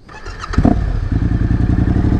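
A Yamaha Tenere 700 adventure motorcycle starting up: a clattering crank and catch at about half a second, then a loud, close, steady idle thrumming through to the end.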